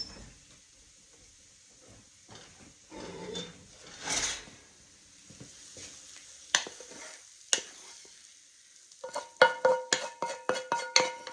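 Sautéed onions being stirred into a broccoli casserole mixture in a bowl, with soft scraping and shuffling of a spoon, followed by a quick series of sharp clinking taps against the bowl near the end.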